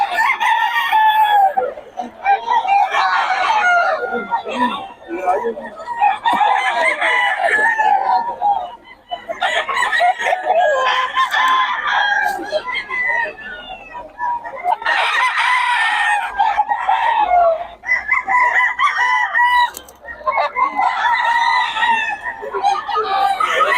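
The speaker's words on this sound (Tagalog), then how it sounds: "So, solid ang mga manok ni Boss Rod niya." Gamecock roosters crow loudly and repeatedly, one long call after another with short gaps, several birds overlapping close by.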